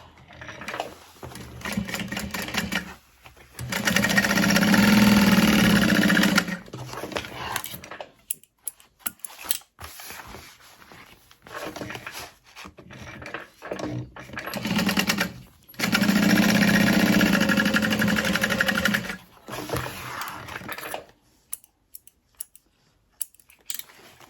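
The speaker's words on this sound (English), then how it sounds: "I am going to sew the pocket shut in a U shape" Two long runs of close, steady machine stitching close a backpack pocket in a U shape, with scattered clicks, snips and fabric handling between and after the bursts.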